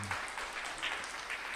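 An audience in a talk session breaks into dense, steady applause, many hands clapping together at an even, fairly close level for the whole moment, with no voices standing out.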